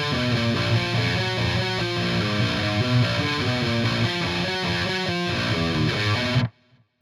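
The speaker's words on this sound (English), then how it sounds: "the second time you repeat that riff, the second time through, it sounds like this." A heavily distorted electric guitar plays the second pass of a riff in a dense, continuous rhythmic pattern. The riff ends abruptly in near silence.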